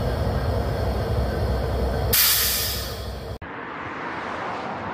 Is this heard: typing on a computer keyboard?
no